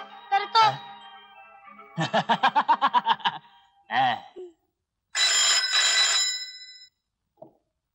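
A telephone rings in a Marathi comedy film scene with Laxmikant Berde and Nishigandha Wad: a bright, ringing burst close by, preceded by rapid pulsing tones and brief voice-like sounds, with no speech over the ring itself.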